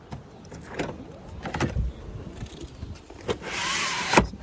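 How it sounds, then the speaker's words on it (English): Trunk of a 1999 BMW 528i Touring wagon being opened: scattered mechanical clicks and thumps, then a rising motorized whir with a sharp latch clunk near the end, close by with no talking. "I'm going to open up the trunk."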